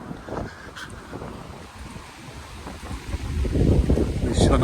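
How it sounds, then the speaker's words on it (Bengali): Strong wind buffets the microphone outdoors after rain, giving a rough, gusty roar that swells and fades in waves and grows louder toward the end. "ভীষণ হাওয়া হচ্ছে আজকে।"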